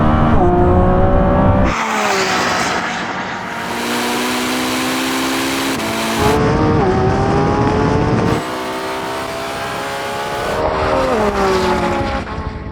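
A Lamborghini Revuelto, Porsche 918 Spyder and Ferrari SF90 launch in a drag race with wheel spin, engines roaring loud and close as revs rise and fall through several gear shifts, with faint tire squeal.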